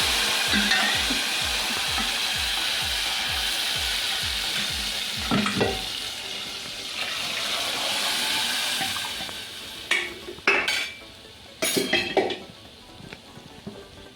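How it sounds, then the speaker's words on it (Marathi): Mashed dal poured into a hot sizzling tempering, with rhythmic stirring strokes at first, then a softer bubbling sizzle broken by a few sharp clatters of a spoon against the pot. "आता ही डाळ, घोटलेली डाळ आता ही घालायची आहे त्यामध्ये."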